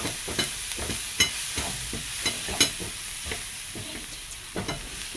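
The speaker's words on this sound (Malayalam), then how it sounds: "നന്നായിട്ട് ഇളക്കി കൊടുക്കാം." A spoon stirs chili and pepper powder in a hot pan for macaroni masala, making a steady sizzle broken by repeated short scraping strokes nearby.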